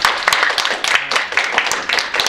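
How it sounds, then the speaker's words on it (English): A small group claps for Sandeep at a club meeting, a short burst of close, brisk hand claps of uneven rhythm that lasts a couple of seconds. "Round of applause for Sandeep."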